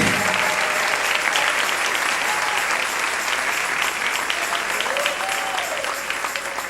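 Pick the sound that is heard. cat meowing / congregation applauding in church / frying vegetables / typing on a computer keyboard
congregation applauding in church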